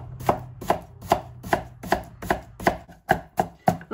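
A knife chops peeled, sliced jícama, mango and pineapple on a board with about ten evenly spaced, crisp, close-up strokes roughly every 0.4 seconds, with no talk.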